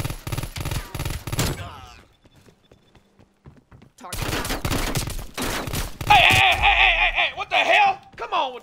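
Rapid bursts of gunfire in the shooter game Call of Duty Warzone, loud and close, stopping for a brief lull before resuming, with shouted voices and game effects overlapping the later shots.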